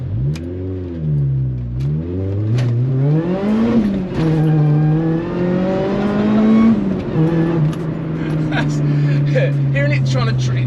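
A supercharged Honda Prelude track car accelerating hard in second gear on track, its engine note climbing and dropping in repeated surges, loud and close, with people talking over it.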